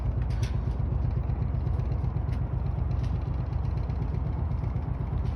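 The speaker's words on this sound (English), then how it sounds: "Got the engine running just to give her a bit of a boost, give the battery a boost" The engine of the small boat April runs steadily to top up the battery, a continuous low, close rumble that stays even throughout with no talk over it.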